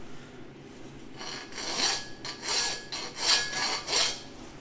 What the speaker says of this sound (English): I'm going to file the end smooth, just with a hand file